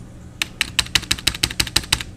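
Quick, crisp clicks of a Compaq Presario SR1130NX computer keyboard's keys being pressed, about a dozen in a steady rhythm, close up with no talking.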